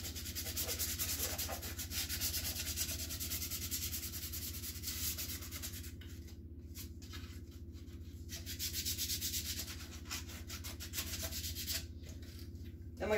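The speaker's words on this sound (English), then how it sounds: "I normally like to use just sandpaper because it's easier to get into the holes" Sandpaper rubbed by hand over a Guitar Hero guitar body being prepped for paint, a steady close scratchy rasp running throughout with brief lighter pauses, no talking.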